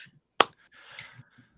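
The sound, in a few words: slow clap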